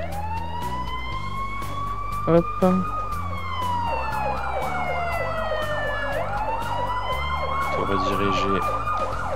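Ambulance sirens in the Emergency 4 game, on a Barcelona mod map, wail loudly and continuously, with overlapping rising and falling sweeps and engine hum beneath. Someone briefly says a couple of words.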